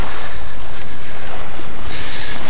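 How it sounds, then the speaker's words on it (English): Ocean waves at a beach, a loud, continuous wash of surf with heavy wind buffeting the microphone throughout, no voices. "Go get those waves!"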